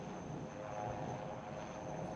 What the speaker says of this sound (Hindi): These indigenously designed and developed advanced light helicopter is twin-engine, multi-role, multi-mission, new generation helicopter developed by HAL Bengaluru